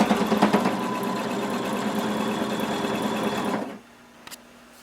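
Close-up sewing machine stitching a swimsuit lining, running steadily for several seconds with a dense mechanical whir, then stopping abruptly near the end before a faint click.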